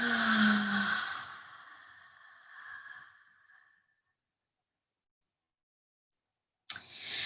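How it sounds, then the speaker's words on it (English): A slow, audible breath out through the mouth during a calming anxiety-relief breathing exercise, a soft airy exhale that fades over a few seconds into silence before another sound starts abruptly near the end. "And out through your mouth."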